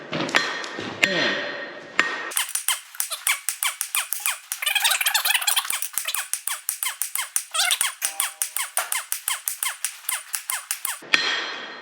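A hammer strikes metal on an anvil in a fast, steady series of sharp ringing clanks, loud and close, with brief pauses at the start and end.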